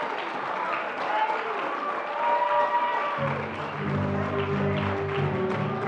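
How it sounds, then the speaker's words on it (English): An audience at a school awards chapel applauds the standing senior class, a dense, sustained clapping that fills the room while low, droning tones join partway through. "just give them a round of applause"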